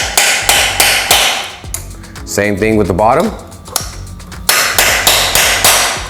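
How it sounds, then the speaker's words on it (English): A hammer taps an Allen key extension seated in a bolt on an 08–16 Yamaha R6 motorcycle, a run of sharp metallic strikes in quick rhythmic bursts, broken by a short stretch of someone talking before more taps follow. "just tap it down with the hammer a couple times"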